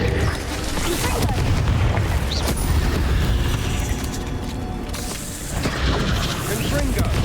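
Booming fire-spell blasts and rumbling explosions in the Hogwarts Legacy video game, a dense continuous roar of combat effects with layered impacts filling the whole stretch, loud and close.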